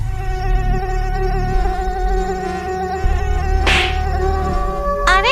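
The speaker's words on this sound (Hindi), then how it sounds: "बहुत मच्छर काट रहे हैं" Mosquitoes buzz in an animated story, a loud, sustained droning whine close up, broken by a brief whooshing burst and a short rising squeal near the end.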